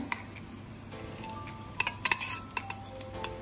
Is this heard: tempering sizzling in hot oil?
yes